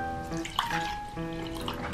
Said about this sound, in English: Should I pour in all food?